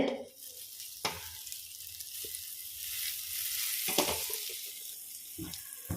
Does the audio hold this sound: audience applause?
no